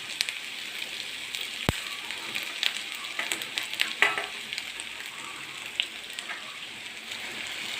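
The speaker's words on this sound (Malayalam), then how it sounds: "ജീരകം ചെറുതായിട്ട് മൂത്തിട്ടുണ്ട് ഞാൻ ഇതിനകത്ത് ഇഞ്ചി ഇടുന്നു" Ginger fries with cumin seeds in hot oil for chicken chukka, giving a soft, steady crackling sizzle nearby, with small pops and a few light utensil taps.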